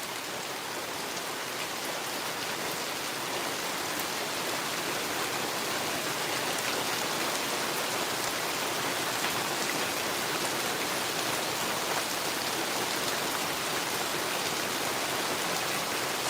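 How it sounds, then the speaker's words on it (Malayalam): Heavy night rain pours steadily, a dense, even roar of drops on surfaces that stays loud and unbroken throughout with no voices. "ശക്തി മഴ പെയ്യുന്നുണ്ട്"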